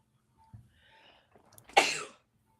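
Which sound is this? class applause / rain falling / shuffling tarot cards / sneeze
sneeze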